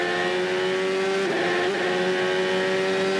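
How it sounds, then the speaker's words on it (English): A 2003 CART Champ Car engine screams at high revs in a steady sustained tone, briefly spiking twice as the rear tires lift off the ground on the bumpy Cleveland airport runway circuit, loud and close with no talk. "Hear the engine rev when the rear tires hop off the ground."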